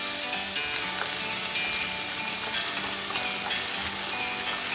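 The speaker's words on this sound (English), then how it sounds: "I'm frying some potatoes." Seasoned potatoes fry in a pan for a breakfast with bacon and omelette, giving a dense, even sizzle with tiny crackles and pops throughout, close and steady without speech.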